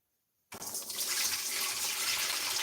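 Tea poured through a colander into a container in a home kitchen starts abruptly after a brief silence, then runs as a steady, full splashing stream close by.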